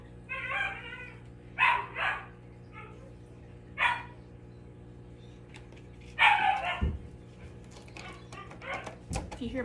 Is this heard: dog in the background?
yes